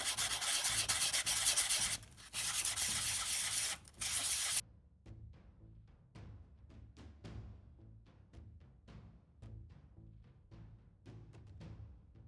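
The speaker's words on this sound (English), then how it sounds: "I'll just take that sandpaper block and just work that around again as well." A sandpaper block is worked across a scenic base plinth, giving loud, steady rasping strokes for several seconds with a brief pause, followed by quieter, scattered light taps and scrapes close by.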